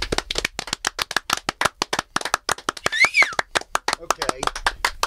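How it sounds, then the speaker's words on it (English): A small group claps for a punk band after an interview, sharp individual hand claps in an uneven burst, fairly close, with a brief whistle-like tone partway through. "Let's give a round of applause."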